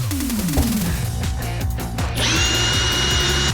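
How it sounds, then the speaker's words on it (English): A power tool cuts off the brake pedal on a Dodge D-100 Sweptline truck, a loud steady drilling whine with shifting pitch, a sharp higher-pitched screech joining partway through as the blade bites into metal. "Why are you cutting off the brake pedal?"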